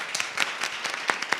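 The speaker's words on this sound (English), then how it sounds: "let's give a round of applause for our panelists" Scattered applause from an audience for panelists at an evening business alliance meeting, a few separate claps and short bursts rather than a full ovation, fairly faint and brief.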